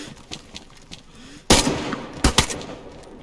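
Gunshots in a video game roleplay, a loud close shot followed by a quick pair of further cracks after a quieter stretch of faint distant pops, with low talk in the background.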